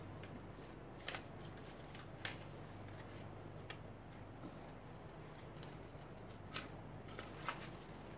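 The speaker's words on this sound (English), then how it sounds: "For the straight edges, you can use regular scissors." Quiet, sharp snips of scissors cutting paper, spaced irregularly over a low steady background hum, with no voices.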